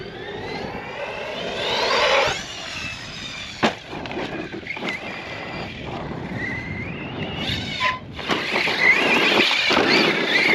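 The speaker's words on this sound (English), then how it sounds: "Light RC car." An Arrma Outcast RC car drives over rough outdoor ground and takes jumps, its electric motor whining and squealing in rising and falling pitches, with wind buffeting and brief thumps from landings.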